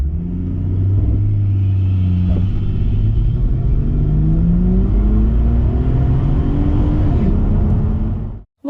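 A car with a naturally aspirated Barra engine, being turbocharged, drives on a road on a cold, dry night, its steady loud rumble rising and falling as it accelerates, with the engine note climbing in pitch before cutting off abruptly at the end.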